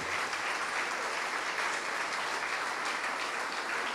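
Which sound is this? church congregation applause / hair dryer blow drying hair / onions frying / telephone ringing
church congregation applause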